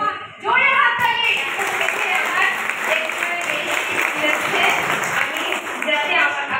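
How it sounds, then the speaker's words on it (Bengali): Loud, sustained applause from an audience fills the whole stretch, steady dense clapping with a crowd murmur underneath. "জোরে হাততালি"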